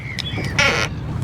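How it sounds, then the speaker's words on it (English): Gulls calling over the sea in the Solent near Portsmouth, a few harsh cries against steady wind and water noise during a mackerel fishing trip. "Yeah, so got the gulls working again."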